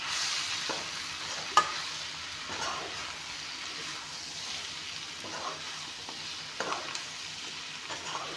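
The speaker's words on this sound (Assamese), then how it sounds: "এতিয়া কোমোৰাৰ কুটিখিনি দি অলপমান টাইম ভাজি ল'ম।" Chopped pumpkin shoots fry in a hot pan for a local chicken dish, giving a steady sizzle broken by occasional scraping stirs and clinks of the utensil.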